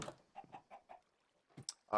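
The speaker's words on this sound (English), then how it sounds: "This is every chicken farm you've ever seen." Minecraft chickens cluck in a farm, giving a few short, evenly spaced clucks at moderate volume with brief bits of voice near the start and end.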